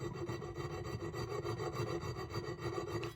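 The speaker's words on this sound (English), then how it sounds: "We just need to get it started before we start working into our larger round file." A round file rasps back and forth on a Galil hand guard retainer in steady, closely spaced strokes, rhythmic and close up, with no talking.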